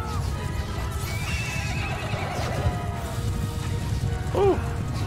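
Horses whinny amid a rumbling battle in Mount and Blade Bannerlord, with a distinct neigh near the end over continuous hoof and crowd noise.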